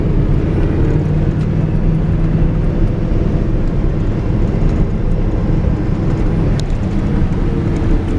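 A car driving out along a rural dirt road on the La Garita land tract, giving a steady, close rumble of engine and tyres on gravel that runs the whole way without a break. No one speaks.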